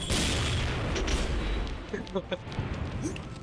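Explosions and gunfire from the online shooter game XSHOT, with a heavy rumbling blast at the start followed by scattered sharp pops and shots, mixed with faint background voices.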